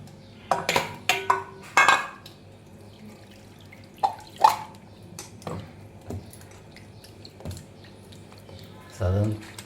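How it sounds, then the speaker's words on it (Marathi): A lump of butter washed by hand in cold water in a pot: irregular splashes, sloshes and clinks of the vessel close up, separated by quiet gaps. "त्याला थंड पाण्याने चांगलं"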